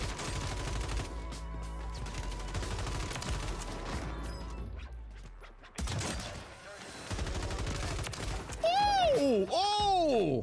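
The Karak gun in a shooter video game fires in rapid bursts of gunshots, mixed with game effects and ending in bright, warbling electronic tones, while a voice talks over the shooting.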